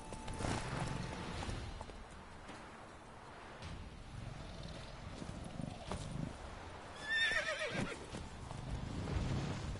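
A horse in The Witcher 3 gives a sharp whinny midway over a steady bed of hooves clip-clopping along, with ambient game noise throughout.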